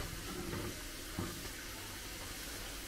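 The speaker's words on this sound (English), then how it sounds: "frying some fish, so you can probably hear that" A soft, steady sizzle of fish frying in a pan, a faint continuous hiss with no voices.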